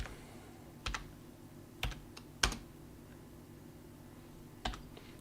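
Keystrokes on a computer keyboard as a terminal command is typed during Ubuntu server setup: a few sharp, sparse clicks spread over several seconds, close and fairly quiet, with no talking.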